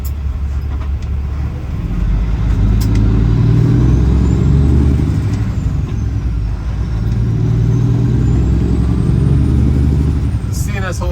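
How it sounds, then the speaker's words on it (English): Trucks going by on Highway 10, a loud, continuous roar of heavy traffic with two broad swells as vehicles pass close to the recording point. "All those trucks going by."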